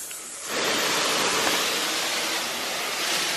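Plants in a greenhouse are watered, starting with a sudden broad rushing spray that then continues as a steady, loud, close hiss of water.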